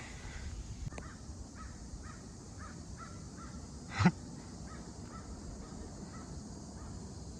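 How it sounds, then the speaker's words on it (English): Several harsh, crow-like caws from birds fighting repeat in a steady series at moderate distance over steady outdoor background noise on a hiking trail, with one sharper louder burst partway through. "Those birds, I think, flew over my head and they were like yelling at each other."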